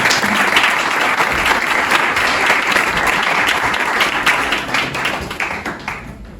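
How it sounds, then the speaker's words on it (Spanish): Applause from the audience at a Bitcoin meetup in Barcelona, a loud, close rattle of many clapping hands that holds steady and then tapers off over the last couple of seconds. "un gran aplauso, muchas gracias"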